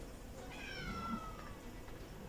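A cat meows once inside the horror game Ice Scream Man 2, a single drawn-out, falling cry lasting about a second over a steady low game ambience, with no talking.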